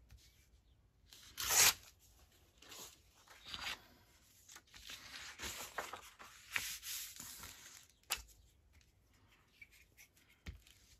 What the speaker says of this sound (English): I'll tear a strip of this